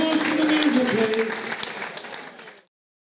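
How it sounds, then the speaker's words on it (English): Crowd applause for the music at a darts event, a dense burst of clapping with voices and cheering mixed in, fading out after about two and a half seconds. "Nice round of applause for the music, please."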